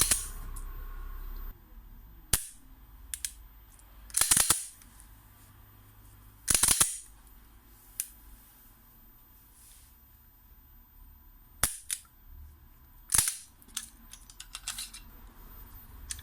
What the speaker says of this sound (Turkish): Şarjör takılı değilken tetik basmıyor. O yüzden şarjörü takıyorum.